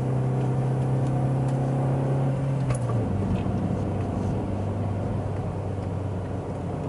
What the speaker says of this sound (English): I still blipped the throttle as I pushed it from fourth to third